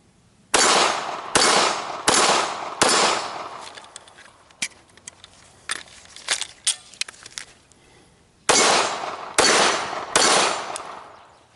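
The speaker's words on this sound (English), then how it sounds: "I've never been this close to a cycling pistol." Pistol fitted with a FLUX Defense brace firing close by, one sharp shot followed by three more in quick succession, a gap filled with metallic clinks and handling noises, then another rapid string of four loud shots.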